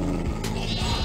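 A sheep bleats in the Minecraft video game as wolves attack, with short wavering bleats over a dense, busy background.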